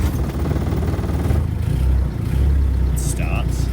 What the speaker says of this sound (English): it starts, and I'm driving the Land Rover into the garage, ready for painting